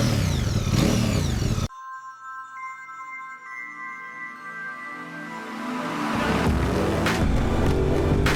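A QJ Motor SRV550 motorcycle engine revs hard and loud at close range, drops to a quieter, steadier running note, then builds back up into strong revving toward the end.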